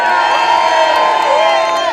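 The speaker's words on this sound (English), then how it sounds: "Can you all give me a cheer for yourselves?" A crowd at an Irish community gathering cheers loudly and continuously, with whoops and children's shouts blended into a dense, sustained roar.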